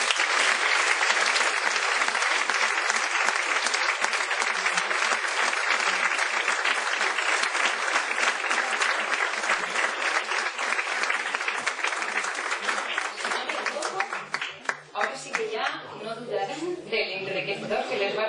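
An audience at a book presentation in Venta del Moro breaks into long, dense, sustained applause that fills the room, then thins toward the end as a few voices and chuckles come through.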